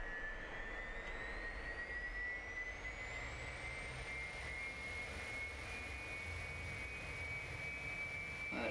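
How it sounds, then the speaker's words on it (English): A jet airliner in a flight simulator game roars loud and steady on the ramp, its high turbine whine slowly rising in pitch over a constant broadband rush, with no voices. "That is one heck of a loud plane"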